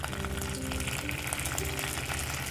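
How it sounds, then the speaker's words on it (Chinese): Food fries in hot sesame oil in a pan over medium heat, giving a steady, soft, continuous sizzle and crackle with no talking. "我要用香油来煎，比较香。"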